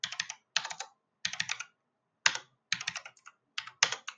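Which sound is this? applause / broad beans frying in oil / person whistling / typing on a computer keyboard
typing on a computer keyboard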